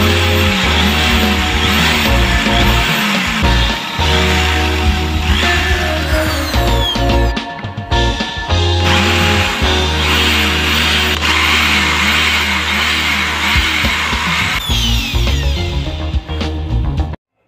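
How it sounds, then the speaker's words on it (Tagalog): A power drill bores out the riveted lock on a stuck spin dryer motor during a repair, whining loudly and steadily in sustained bursts with brief pauses and pitch changes as the bit bites into the metal. "Yan ngayon ang i-drill natin."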